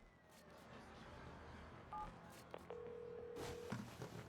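In the game Watch Dogs 2, a phone dials with a short run of keypad tones. A sustained ringing or call tone follows, quiet under a steady in-game background hum.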